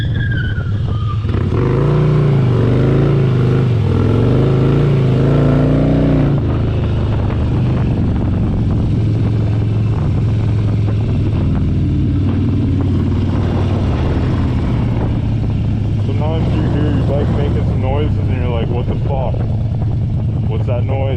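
Car doing donuts: a loud revving engine with rising and falling pitch and squealing, spinning tires, continuous and close throughout.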